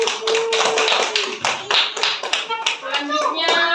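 Children clap their hands in a classroom, a loud, steady patter of many small hands with a rhythmic feel, mixed with kids' voices and chatter throughout.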